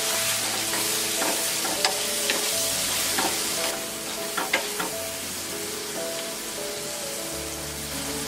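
Onions and tomatoes are stirred as they fry in a pan with coriander-cumin powder, ginger garlic paste and salt. A close, steady sizzle carries repeated spatula scrapes, all over continuous background music.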